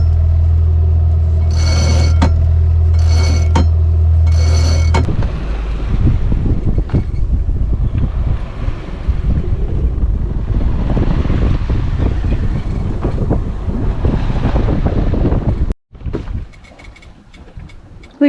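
Strong wind rushes over the microphone aboard a sailboat under way in light winds, with loud, steady buffeting throughout and water noise beneath, briefly dropping out near the end.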